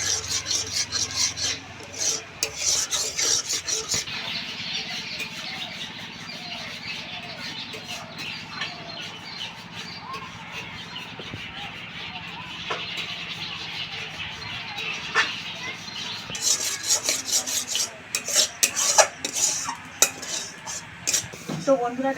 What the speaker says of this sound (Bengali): খুব ভালোভাবে নেড়ে চেড়ে দেখুন আমের পাল্পটা কিন্তু অনেকটাই ঘন হয়ে এসেছে